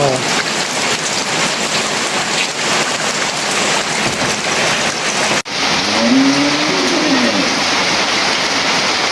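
A heavy rainstorm pours down as a loud, continuous hiss of drops striking surfaces nearby. The sound stays dense and even throughout, broken only by a brief dip partway through.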